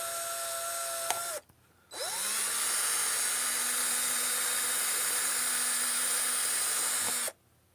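A power drill spins up and bores into a plant pot steadily for about five seconds after a brief first burst, a close, loud whine that cuts off abruptly.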